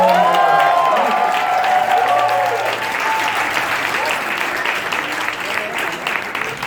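A cabaret-show audience applauds a performer, a full, dense wash of clapping with some crowd noise, loud throughout and heard beneath talk for the first half before continuing on its own.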